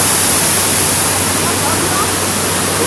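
Maria Christina Falls roars as a steady, dense wash of falling water, loud and unbroken from start to end, with the people present speaking under it.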